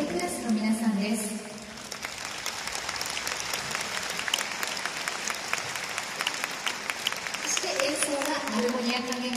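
Audience applause at the finale of a Saga prefecture arts festival concert with the Armonia orchestra, steady dense clapping throughout, with an announcer's voice heard over it at the start and end.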